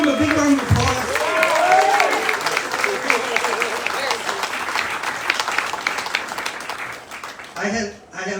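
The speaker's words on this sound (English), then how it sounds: "Can we give him a big round of applause?" Crowd applauding at a political announcement for a Saipan delegate run, loud continuous clapping with some cheering and voices mixed in, then a speaker begins talking near the end.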